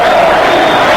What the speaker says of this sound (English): Crowd chanting Bernie.